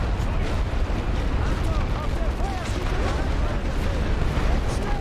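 A heavy artillery barrage in the WWI strategy game The Great War: Western Front rumbles on without a break, thick with overlapping booms and blasts, while a voice talks underneath.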